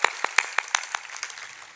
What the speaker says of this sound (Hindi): बहुत ज्यादा बड़ी तालियां थी।